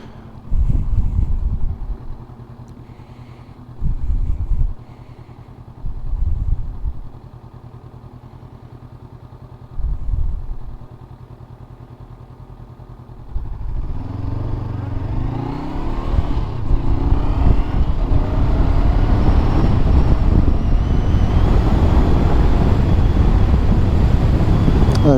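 A 2019 Honda CBR500R motorcycle idles at a stop with a few short revs, then pulls away and accelerates, engine note climbing into a steady loud run under heavy wind rush.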